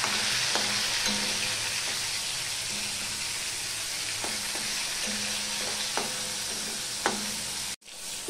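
Pieces of katla fish fry in hot oil with a dense, steady sizzle, broken by several sharp scraping clicks from a utensil as the fish is turned, close up and with no talking.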